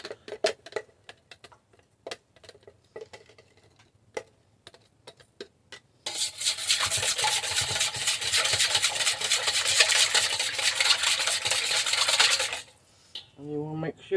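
Warm milk and melted butter are whisked together in a cup, quiet scattered clicks followed by a fast, steady scraping rub of the whisk that stops abruptly near the end, with no talking.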